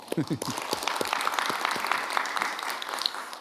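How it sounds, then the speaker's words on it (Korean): Applause at a Korean meeting between government and foreign-invested companies: a voice speaks briefly at the start, then steady clapping from the gathered attendees continues throughout, moderately loud and fairly close. "박수로 담아 주시죠."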